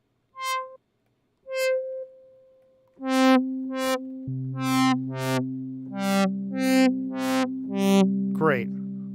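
A basic analog synth patch with little modulation and no reverb plays dry tones, first two short single notes, then a series of swelling chords that build and overlap, each rising and fading in a slow, regular pulse.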